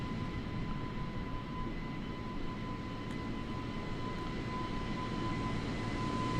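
Airbus A330 jet engines in a flight simulator, a steady loud drone with a constant whine and low rumble, continuous and even throughout with no talking.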